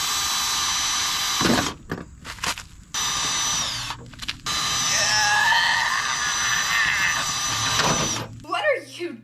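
A power drill whines loudly in long bursts while drilling for quick release bumper clips on a Lexus IS300, stopping and restarting several times, with someone talking faintly underneath.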